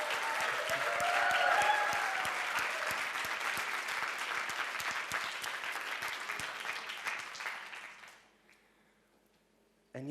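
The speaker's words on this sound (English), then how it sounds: "so we can give them a round of applause." A dense round of applause from a conference audience swells quickly, holds for several seconds, then fades out into near silence around eight seconds in.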